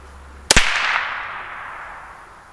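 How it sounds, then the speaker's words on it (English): A Ruger 10/22 rifle firing a single Federal Auto Match 40 grain round outdoors, one sharp loud crack followed by a fading echoing tail, no talking. "We are shooting, Federal Auto Match. They're 40 grains"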